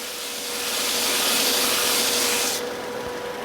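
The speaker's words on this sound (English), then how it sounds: "So you want to sand a little, take a break, sand a little." Hand sanding of a painted wooden napkin holder with light pressure, a steady close broadband scratching that swells over a couple of seconds and then eases off, with no talking.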